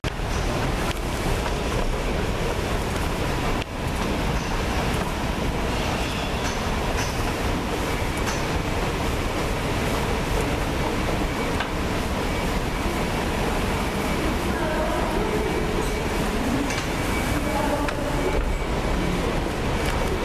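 Fujitec travelators run through a long tram stop tunnel leading to a bus terminal in Antalya, Türkiye, giving off a steady, unbroken rumbling drone with faint clatter throughout and no talking.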